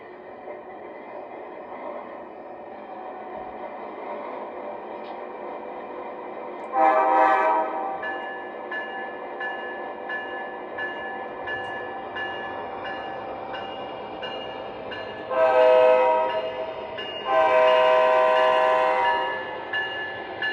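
An MTH Premier Norfolk Southern C40-9W model train locomotive runs steadily with a continuous motor hum, sounding its horn in three loud blasts, one around the middle and two near the end.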